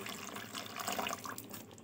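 Water pours softly into a chicken pitha batter mixture for patrapoda, a brief, faint trickling splash heard on its own.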